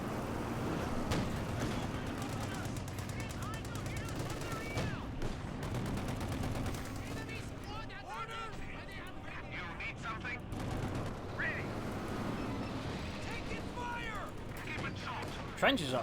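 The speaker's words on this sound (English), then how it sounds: "mortar fire with someone's dead." Mortar fire in the Company of Heroes 2 video game, with booming blasts and rattling gunfire in a dense, continuous battle mix while a voice talks over it.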